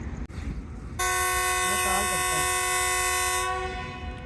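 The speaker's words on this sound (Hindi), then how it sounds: "दोस्तों डिपार्चर हॉर्न हो गया।" A loud, sustained train departure horn blares for a few seconds over low station rumble in Lahore fog, close by, then fades as it cuts off.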